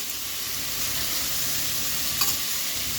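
Bottle gourd and chana dal are sautéed on medium gas in a pressure cooker, producing a loud, steady close-up frying hiss with stirring and a small clatter near the end.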